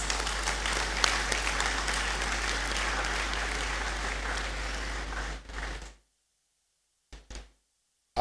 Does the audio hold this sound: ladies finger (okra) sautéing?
no